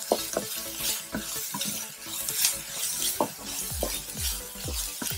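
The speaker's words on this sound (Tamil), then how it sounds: "நல்லா வதக்கி விட்டுடலாம்." Ginger garlic paste sautéing with onions in a pan for chilli idli, a dense close sizzle with frequent scraping and clinking spatula strokes against the pan in an uneven rhythm, no talking.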